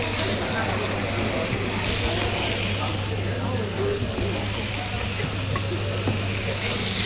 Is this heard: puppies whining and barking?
no